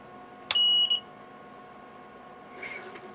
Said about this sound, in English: And the beeper works too.